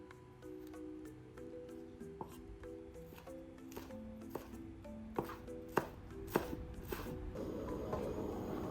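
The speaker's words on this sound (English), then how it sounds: "And cut some chilies, and green onion for garnishing." Knife chopping chilies and green onion on a cutting board, a run of quick, crisp taps with a few louder cuts, close by over faint kitchen hum and background music.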